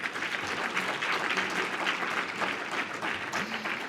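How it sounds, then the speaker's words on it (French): An audience at an agrivoltaics conference applauds steadily for the arriving speakers, a continuous even patter of many hands that stays moderately loud throughout. "sous les applaudissements de la foule en délire"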